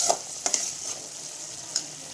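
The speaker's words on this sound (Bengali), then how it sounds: "এবারে নাড়াবো মাছটাকে" Fish frying in hot oil as it is stirred, a steady crackling sizzle broken by a few sharp scraping clicks of the spatula against the pan, close and fairly loud with no talking.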